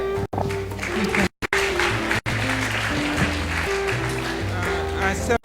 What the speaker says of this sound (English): we love that you're applauding